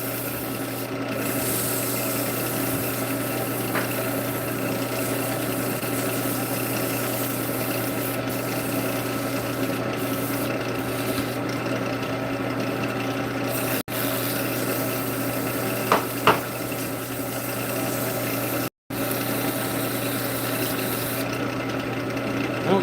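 Sandpaper rubbing against a small workpiece spinning in a wood lathe chuck, a continuous steady hiss over the lathe's motor hum with a few faint knocks, no talking.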